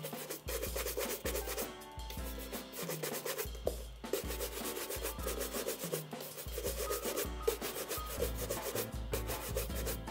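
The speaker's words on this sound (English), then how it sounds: "So let's see how that buffs off." Leather dress shoes are buffed after Saphir Medaille d'Or polish, making a brisk rhythmic brushing, rubbing sound in rapid back-and-forth strokes, close and continuous with no talk.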